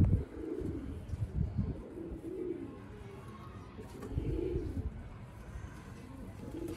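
Pigeons coo in repeated low, rounded phrases on a rooftop in Sialkot, close and fairly soft, with little else around them.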